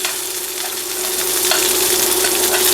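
A steak sears steadily in a hot pan, a dense, even sizzle that holds close and loud for a few seconds and swells slightly toward the end, with no voices over it.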